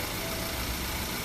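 A 2020 Nissan Armada's 5.7-liter V8 idles with the hood up, a steady, even broadband rumble heard close with no talk over it.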